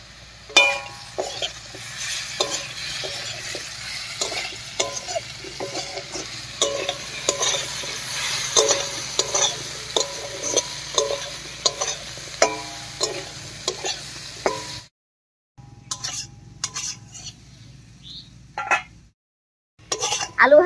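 Potatoes fry and get stirred in a pan: a busy sizzle punctuated by repeated scraping and clinking spatula strokes, then a short pause before quieter stirring resumes.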